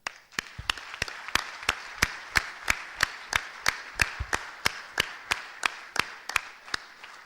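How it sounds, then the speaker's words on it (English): Audience applause at a closing plenary, heard as steady, evenly spaced claps about three per second over a diffuse wash of crowd noise, fairly faint and continuous for several seconds. "give yourselves a huge round of applause for the incredible work you've done"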